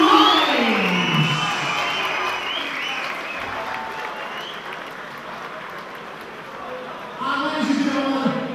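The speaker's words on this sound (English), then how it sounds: "please keep that round of applause going for our grand runner-up of that contest, Toby Meech" A crowd at an amateur MMA fight night in the UK claps and cheers loudly for the runner-up of a bantamweight bout, sustained applause with whoops under an announcer's voice, swelling again near the end.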